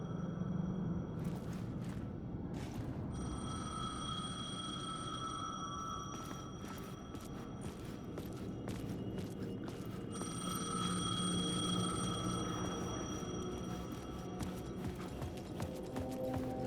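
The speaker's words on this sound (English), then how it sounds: "The payphone was ringing." A payphone rings in the horror game Alan Wake 2, its bell tones repeating in bursts over a dense, dark ambient bed, with no one speaking.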